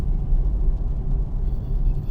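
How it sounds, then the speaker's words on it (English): Car driving at night in the rain, heard from inside as a steady low engine and road rumble with tyre hiss running throughout, fairly loud and close, with no talking. "in a car right now, driving in the rain at night"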